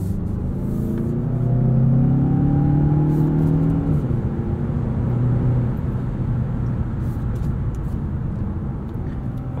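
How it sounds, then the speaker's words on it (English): A 2020 Mazda 6 Signature engine drones loudly, held at redline, keeping a sustained strained pitch with slight rises and dips, no talking. "It'll just hold the revs at redline."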